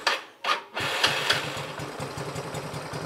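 Motorcycle fitted with a Silent Killer power pipe exhaust idles steadily at close range after a couple of brief bursts, giving a low, even pulsing throb with no talking.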